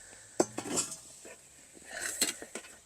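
Old metal cookie sheets being handled during garden work, giving a few close clanks and light metallic clinks scattered over about three seconds, with no talk.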